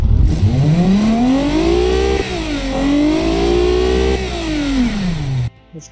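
A video-game car engine fitted with long tubular headers, about 260 horsepower, revs loudly and steadily, its pitch climbing, dipping and swelling again before cutting off abruptly near the end.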